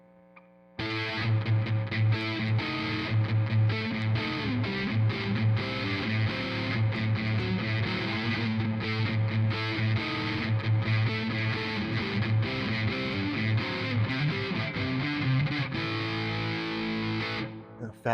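A First Act ME301 electric guitar on its neck pickup, warm and round, plays a steady riff through light effects, loud and close, with no talking.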